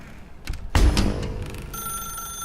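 An in-game telephone in The Stanley Parable starts ringing with a bright, sustained electronic bell tone after a few soft knocks and a heavier thud. The ring continues steadily and fairly close, with no voices.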